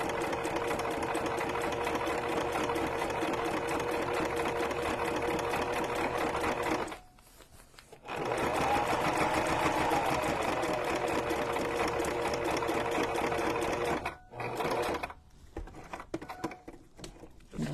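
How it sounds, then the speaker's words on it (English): A sewing machine stitches through a cardboard junk journal cover, a loud, close, rapid needle chatter running in long stretches with two brief pauses and choppy stop-start bursts near the end. "I rarely have an issue sewing through this cardboard, but every now and then it'll break my thread."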